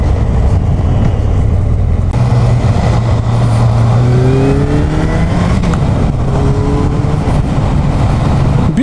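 A Kawasaki Zephyr 1100 motorcycle accelerating hard, its loud engine note rising steadily in pitch through the gears, close and continuous with heavy wind rush.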